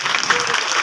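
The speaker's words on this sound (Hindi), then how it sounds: "इनके लिए एक मरतबा फिर तालियां बजा दें" Crowd applause at an office opening ceremony for a broker group in Karachi, a short steady burst of clapping from a gathered audience.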